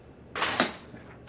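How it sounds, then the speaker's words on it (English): Paper slapping against a wall, two quick close soft smacks in succession, brief and crisp against a quiet room. "hearing the paper hit the wall"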